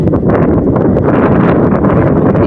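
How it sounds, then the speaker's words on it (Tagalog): Strong wind at sea with big waves roars loudly and continuously, heavy buffeting close to the microphone with no voices. "Grabe lakas ng hangin guys"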